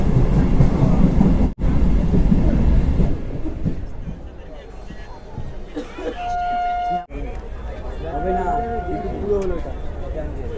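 A mostly empty passenger train moving near Dum Dum Junction fills the carriage with a loud, steady low rumble that briefly cuts out, then settles quieter, with people talking and faint chatter over the running noise.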